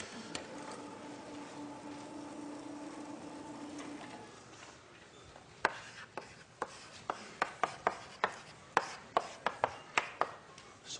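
Chalk or marker writing an equation on a board during a math lecture: a steady rubbing stroke at first, then a run of sharp, evenly spaced taps and short scratches as symbols are written, close and with no talking.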